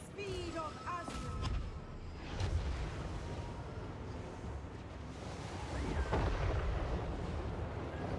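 An artillery volley in Total War: Warhammer 3, heavy booming shots and rumbling impacts rolling over a broad battlefield roar, with some faint speech in the mix.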